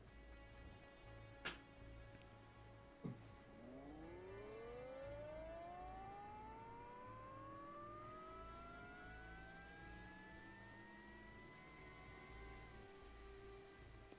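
A car engine in the Automation game sims up from idle after two brief clicks, its harmonic whine climbing steadily in pitch and holding a loud, sustained drone to the end, with no one talking.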